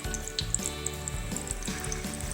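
Batagor batter sizzling steadily in hot oil, a quiet continuous frying crackle with small pops and no voices.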